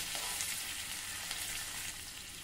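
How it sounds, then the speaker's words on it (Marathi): Green chillies sizzle and crackle steadily in hot oil with roasted peanuts and asafoetida while being stirred, a dense continuous frying hiss close up with no talking. "हिरवी मिरची देखील छान परतून घेऊ।"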